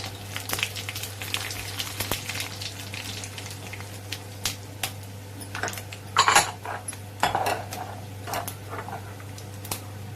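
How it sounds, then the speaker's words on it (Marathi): Mustard seeds crackle and pop in hot oil, a dense irregular spatter of sharp little bursts over a steady low hum. "मोहरी छान तडतडली"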